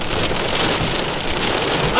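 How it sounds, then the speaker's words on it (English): Heavy rain pounds steadily on a car during a severe thunderstorm, a dense, loud, continuous hiss and patter with low rumbling underneath; hail bouncing off the ground may be mixed in. "Sometimes you can see the hail bouncing off the ground."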